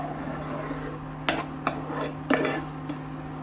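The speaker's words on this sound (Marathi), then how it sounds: "हे चांगल्या प्रकारे असं मिक्स करून घ्यायचं आहे" Spices being mixed into a vegetable gravy in a pan for a mixed-veg dish: a few sharp spoon scrapes and clinks against the pan over a steady low hum, with no talking.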